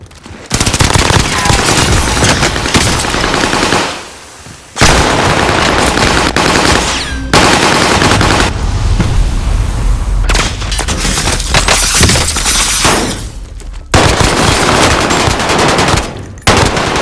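Dense, loud video game gunfire in Call of Duty Warzone, sustained bursts of automatic fire and booms with only brief gaps in between.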